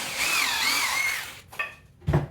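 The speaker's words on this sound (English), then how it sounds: "I'm going to drill into that center indention." A power drill whines as it bores into scrap wood, a steady high-pitched run for about a second, then two short bursts as the bit is eased off, with no talking.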